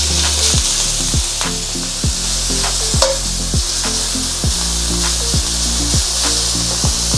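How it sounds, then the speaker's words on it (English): Bacon frying in a well-seasoned, oiled wok: a steady close sizzle runs throughout, broken by regular scraping and knocking of a utensil against the pan, with no talking. "I'm going to put my bacon in,"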